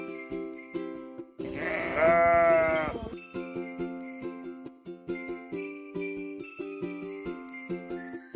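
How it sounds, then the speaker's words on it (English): Sheep bleating from a toddlers' farm-animal set, one wavering bleat near the start rising loud over light jingling music that plays throughout. "sheep"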